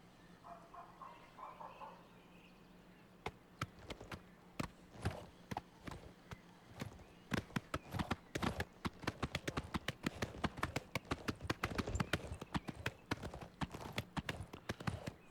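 Hooves of a painted horse in the video game Oblivion clip-clopping, sparse steps at first building into a fast, crisp running rhythm of sharp clear hoofbeats, with faint birdsong early on.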